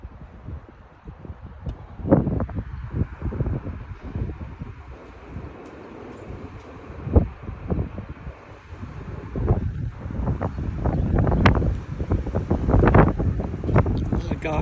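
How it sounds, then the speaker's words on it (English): Strong wind gusts roar and buffet the microphone outdoors in Frisco, Texas, with blossoms blowing off a Bradford pear tree, the rushing noise surging and fading continuously. "So the gust right now is like 35, and it's only gonna get stronger."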